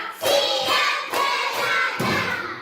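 Children in a classroom clap out a counted rhythm of sharp hand claps in short bursts, loud and close, with a few thumps between groups.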